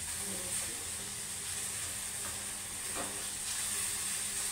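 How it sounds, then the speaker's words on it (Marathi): Steady, close sizzling fills the pan as dal baati ingredients are sautéed in hot oil, a continuous frying hiss with a few scrapes of stirring and no talk. "असं सगळं परतवून घ्यायचं."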